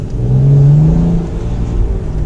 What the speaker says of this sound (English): the exhaust note gets sharper when you put it into different modes